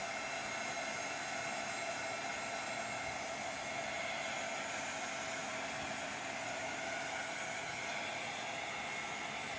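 A hair dryer blows steadily and close up while drying a painted gourmet-area plaque, a continuous whooshing drone with no talk.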